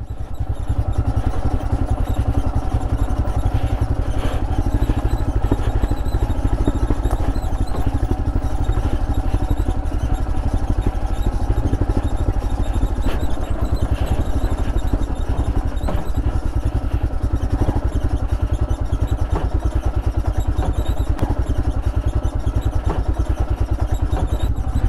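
Royal Enfield Himalayan motorcycle engine running steadily in first gear while riding off road, a loud close continuous thrum with occasional clattering thumps from the rough terrain throughout.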